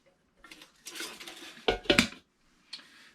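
A titanium camping kettle and cookware from a hiker's canteen set being handled, with several bright metallic clinks and clattering knocks in quick irregular bursts, close by and fairly quiet, with gaps of near silence between.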